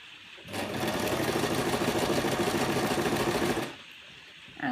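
A sewing machine stitching fabric while a sensory maze cuff is sewn, one continuous fast rhythmic run of stitching for about three seconds, close and clear, then stopping.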